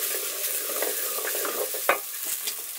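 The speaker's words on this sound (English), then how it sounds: "Ideally, I'd cook this on low heat so that the oil becomes infused with the flavors of the spices and the garlic and the onion." Spices, garlic and onion fry gently in oil over low heat on a coal fire for vegetarian chili, a mellow close sizzle with repeated stirring scrapes and one sharper clack near the end.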